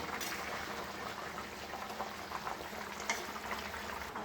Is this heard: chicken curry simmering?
yes